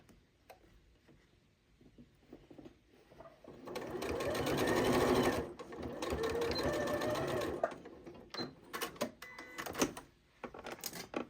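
A Janome 8200 QCP sewing machine runs top stitching on a bowl cozy in two sustained bursts, a rapid mechanical whir with a brief pause between, followed by faint clicks and handling noises.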